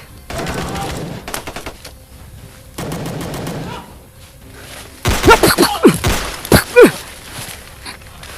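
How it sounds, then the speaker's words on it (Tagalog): Several bursts of gunfire ring out, including a quick rapid string of shots, followed by sharp, loud cracks mixed with shouting voices nearby. "Putukan."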